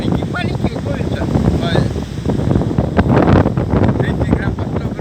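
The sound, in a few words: strong northern wind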